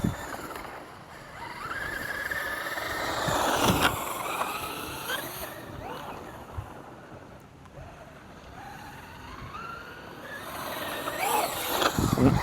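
A Traxxas UDR RC truck running on 6S on a dirt bike track, its electric motor whining up and down in rising and falling sweeps as it accelerates and slows, loud at first, fading a little, then surging again.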